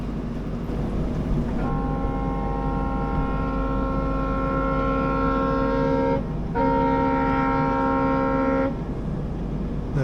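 The 16217 Mysuru-Shirdi Express sounds a long, steady multi-tone horn as it starts moving again, with a brief break before a second horn blast, over a low rumble of the train.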